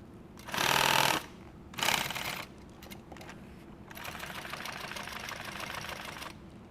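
A sewing machine stitching nylon tactical gear, with two short loud bursts of rapid needle strikes, a pause, then a longer, steadier and quieter run of stitching close to the microphone.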